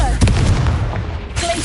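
A Confringo fire spell bursting in Hogwarts Legacy, a loud booming blast with a crackling explosive tail over a short span, brief voice sounds mixed in.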